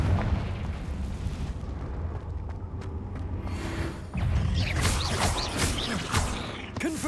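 Fiery blast spells burst repeatedly in the Hogwarts Legacy video game, a dense rumbling barrage of explosions with crackling debris and swirling magical effects, loud and continuous with no talking.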